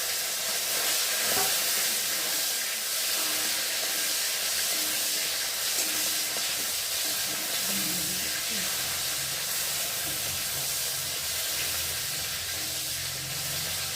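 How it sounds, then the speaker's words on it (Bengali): Prawns fry in a pan with a steady hiss and crackle of hot oil that keeps going evenly throughout, close up, with faint background noise. "চিংড়ি মাছটা ভাজা ভাজা হয়ে যাচ্ছে"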